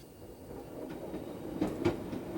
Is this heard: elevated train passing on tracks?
yes